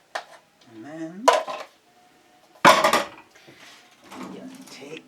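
Silverware being pulled from a dishwasher makes two bursts of bright metallic clattering, close and fairly loud, while a person speaks around them.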